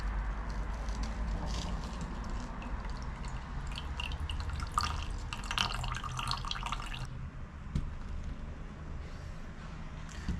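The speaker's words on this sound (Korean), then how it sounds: "구멍을 충분히 뚫었기 때문에 물이 잘 빠지고 있습니다." Water drains through drilled holes in the bottom of a plant pot used for Clematis cuttings, a steady trickling and dripping flow, close and fairly quiet.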